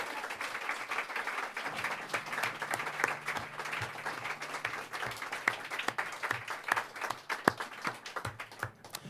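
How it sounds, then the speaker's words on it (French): Concert audience at a show in 2012 applauds a performer named Lucie, a sustained, fairly distant crowd clapping with scattered louder individual claps over about nine seconds. "je voudrais qu'on l'applaudisse très fort, qu'on l'encourage"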